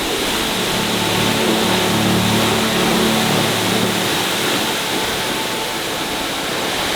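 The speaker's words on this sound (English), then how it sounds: "There is something really special about this waterfall." St. Mary Falls in Glacier National Park, a loud, constant broadband roar of falling water mixed with wind, steady throughout with no voices.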